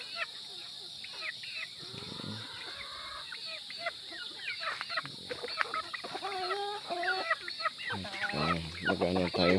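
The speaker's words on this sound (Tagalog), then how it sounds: "magpapakain na tayo ng ating mga manok" Hens cluck and squawk in a busy, irregular chorus, close by, with a steady high insect-like hum behind and a burst of louder clucking near the end.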